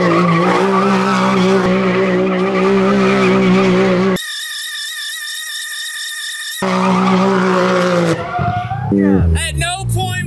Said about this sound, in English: I want to do donuts underneath, and the fastest donuts you can do are with the diff lock.